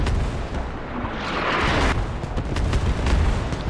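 Heavy artillery explosions from the video game Squad rumble in a dense, booming roll, loud and continuous with overlapping impacts across the whole stretch, with no talk.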